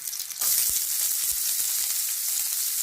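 Onion and garlic hit hot oil with popped mustard seeds, bursting into a loud, continuous sizzle after a quieter start, with a few soft thumps of stirring beneath.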